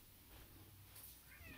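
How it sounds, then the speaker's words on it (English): A pet cat meows to be let in, its vocal cries faint and somewhat distant against quiet room noise, with a brief louder burst near the end. "my cat is screaming to get in"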